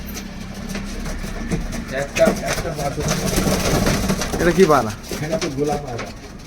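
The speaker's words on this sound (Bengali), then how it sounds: "এই যে কবুতরগুলো দেখো বন্ধুরা" Mirabale pigeons coo in low, rolling bursts from close by, with a faint engine hum behind them and a person talking over the birds.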